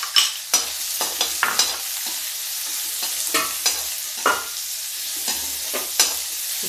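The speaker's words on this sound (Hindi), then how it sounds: "प्याज भून रहा है।" Onions and garlic fry for a bottle gourd curry, a constant hissing sizzle in the pan punctuated by frequent scraping strokes of a stirring spoon, close and uninterrupted with no voices.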